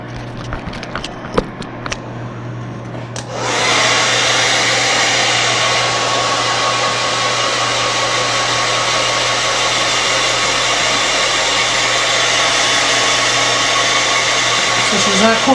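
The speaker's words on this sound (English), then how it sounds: "I'm going to take her over to be blow dried" A hair dryer runs in a steady, loud, continuous roar after a few faint knocks and taps, drying off a cold animal with warm air; the blowing stays constant to the end.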